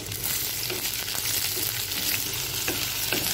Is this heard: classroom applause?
no